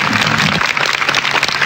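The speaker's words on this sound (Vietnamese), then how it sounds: "chúng ta sẽ dành một tràng pháo tay để chào đón anh" Applause from a TV game show studio audience welcomes a DJ, a brief burst of dense clapping that is loud and close throughout.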